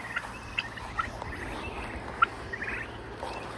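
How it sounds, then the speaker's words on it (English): Broad-breasted turkeys gobble and chirp faintly in the distance over a steady outdoor hum, with a few sharp little calls standing out. "We're raising 8 broad-breasted turkeys"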